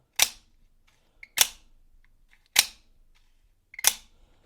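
Four sharp mechanical snaps from an automatic knife firing its blade ring out about a second apart, crisp and close, each with a brief metallic clack and a cheap plastic grating.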